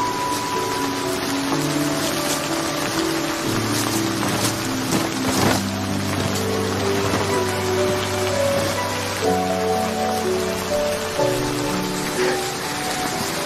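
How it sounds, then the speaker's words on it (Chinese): Steady rain patters on a surface throughout, with a sustained musical score layered over it and no talking. "下雨了"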